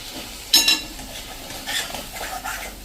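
Spices such as coriander-cumin powder, red chilli powder and turmeric being stirred into bottle gourd and fenugreek muthiya dough, giving soft scraping and mixing sounds with a brief sharper clink early on, close and fairly quiet.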